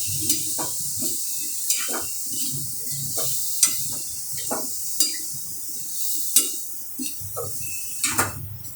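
A mango and jaggery pickle with spices is stirred in a pan, with a soft bubbling base under repeated sharp clinks and scrapes of a spoon against the metal at an irregular rhythm, fairly quiet and close.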